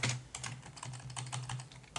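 Computer keyboard typing, a quick run of clicky keystrokes at close range during a lesson on entering shape vertex coordinates, with no speech over it.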